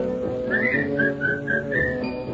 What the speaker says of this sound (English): try to be just like a cheerful chickadee and whistle while you work